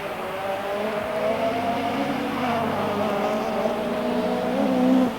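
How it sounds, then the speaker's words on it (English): Mikola's rally car at the 1988 Race of Champions, on a grey day south of Paris, barks hard at high revs, the engine note rising and falling as it races past, loud and continuous. "Sounds from the bark of that engine as though Mikola really is trying."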